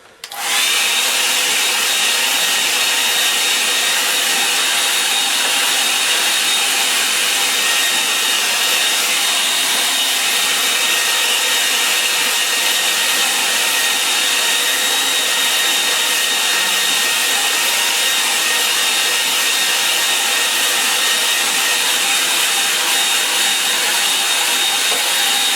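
A hair dryer blowing on a wet painting, a loud, steady whirring roar close by that runs unbroken for the whole stretch with no voices.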